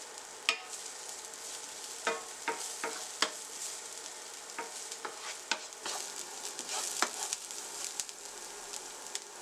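Chopped garlic, onion and pepper sauté in a pan for a smoked fish potato pie, with a quiet sizzle under frequent scraping stirs and light clicks of the utensil, close and moderately soft.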